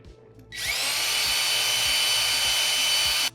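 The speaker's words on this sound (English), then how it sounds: "So we're going to drill these out a little bit." A power drill spins up abruptly after a brief quiet moment and runs at a steady high whine for about three seconds before stopping, close by, drilling out mounting holes.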